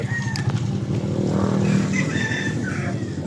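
Many motorcycles pass close by in a continuous, loud engine roar that swells and fades as individual bikes go by, with faint high chirps above the traffic.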